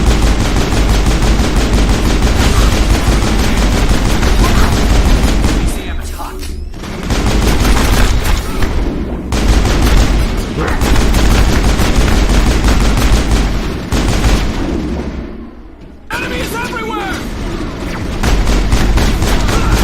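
Sniper fire in the video game Mass Effect, heard as loud, rapid, overlapping gunshots in sustained bursts with a few brief lulls and a heavy, booming low end.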